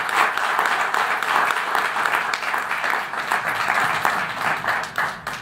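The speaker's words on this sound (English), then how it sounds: "So please can I have another round of applause." A full room applauding at an evening event in West London, dense continuous clapping that holds steady at a loud level for several seconds without talk.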